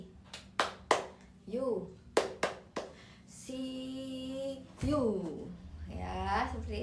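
A classroom of children doing the 'tepuk siu' clap: a few sharp hand claps in a rhythmic pattern, followed by chanting voices, with a teacher speaking between.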